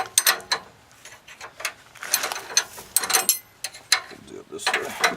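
Ratcheting wrench clicks in quick bursts while turning a 10mm bolt during a leveling kit install on a 2017 Ram 3500 truck, close and fairly loud, in several short runs with brief pauses.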